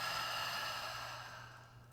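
A slow exhalation out through the mouth during a guided breathing exercise, a soft steady breathy rush that fades gradually over about two seconds, heard alone without talk.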